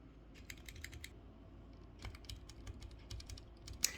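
Typing on a HyperX 96% keyboard with brown switches and double-shot PBT pudding keycaps, quiet irregular bursts of clicky keystrokes with short pauses, close up and alone.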